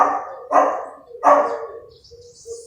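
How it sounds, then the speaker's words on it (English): Dogs barking nearby in three loud, separate bursts about a second apart, followed by quieter yelps trailing off, with no speech over them. "And my dogs are right now active."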